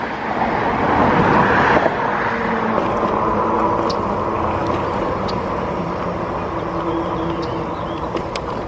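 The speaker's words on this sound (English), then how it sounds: "You can hear the traffic below us." Steady road traffic rumbles and hisses from the roadway below a bridge, heard from above while an e-bike rides across on a bike path. The broad wash of noise is continuous with no single vehicle standing out.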